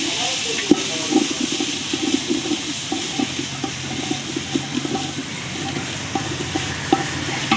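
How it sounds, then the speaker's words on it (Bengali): Mixed vegetables frying together in a pan for khichuri, a soft continuous sizzle and hiss broken by repeated stirring scrapes and clicks, close by, with a faint voice now and then. "সব সবজিগুলোকে দিয়ে একসঙ্গে ভেজে নিচ্ছি।"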